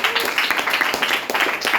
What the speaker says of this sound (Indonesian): Tepuk tangan buat kalian semuanya